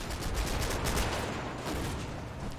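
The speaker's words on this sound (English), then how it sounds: "Passenger grabs the gun, gets a few rounds off." A Jeep passenger in Combat Mission opens up with the vehicle's mounted gun, firing dense, rattling rounds among steady battlefield gunfire, loud and sustained throughout.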